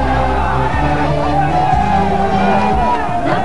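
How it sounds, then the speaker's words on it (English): A large crowd at a political rally in Pundaloy Stadium, Nuwara Eliya, makes a loud continuous roar of shouting and cheering, with horn-like tones running through the din. "A large crowd participated at the rally held at the Pundaloy Stadium in Nuerelia."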